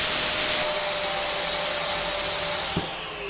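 A Swedish Dyson DC46 Allergy Parquet vacuum cleaner runs with suction, a loud steady whine with a high hiss that drops in level after a moment and then continues evenly.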